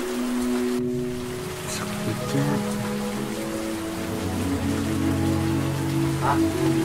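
Heavy rain pours down steadily, a dense close hiss that fills the whole stretch alongside sustained tonal music, with no one talking.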